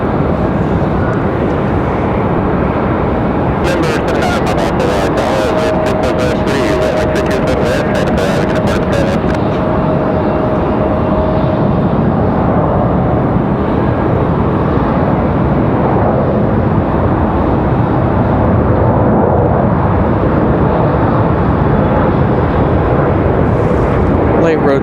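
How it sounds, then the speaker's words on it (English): An Embraer E175 regional jet takes off late down the runway at Raleigh-Durham, its broad engine roar loud and continuous throughout, with a brief burst of crackle early on and a voice occasionally talking over it. "Late rotation for the E175."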